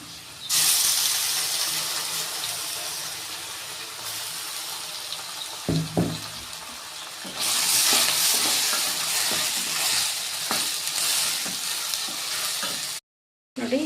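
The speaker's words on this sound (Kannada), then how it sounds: "ಈರುಳ್ಳಿ ಪೇಸ್ಟ್ ಹಾಕ್ಕೊಂಡ್ಮೇಲೆ ಚೆನ್ನಾಗಿ ಎಣ್ಣೆ ಮೇಲಕ್ಕೆ ಬರೋವರೆಗೂ ಫ್ರೈ ಮಾಡ್ಕೊಂಡಿದ್ದೀನಿ" Onion paste fries in oil in a pan for soya chunks kurma, making a steady, close sizzle with intermittent stirring scrapes. The sizzle swells partway through and cuts out briefly near the end.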